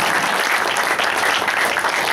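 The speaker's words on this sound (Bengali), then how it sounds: "আমরা সবাই মিলে একবার এই প্রযোজনার জন্য করতালি করি।" Dense audience applause at a theatre production, many hands clapping steadily and loudly with no break from start to finish.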